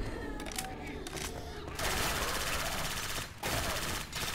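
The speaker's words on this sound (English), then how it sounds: "God, will you quit shooting at me?" Automatic weapon fire in Left 4 Dead 2 running a Halo mod, loud sustained bursts with brief gaps, dense and close, cutting off and resuming near the end.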